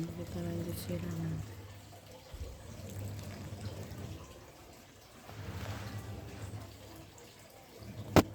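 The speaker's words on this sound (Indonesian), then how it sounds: "Kita lanjut siram." Water splashes and trickles as cucumber seedlings are watered by hand in a home garden in the morning, a steady soft pour that swells and fades while someone talks over it.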